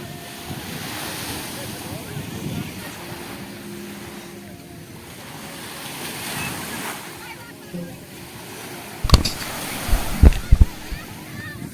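Sea waves washing onto a beach, a soft continuous surf roar with gusty wind rumble buffeting the microphone and a few sharp knocks near the end.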